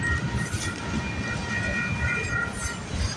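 A Canadian Pacific freight train, symbol CP131, rolls steadily past with a continuous loud rumble and wheel noise, with no talking.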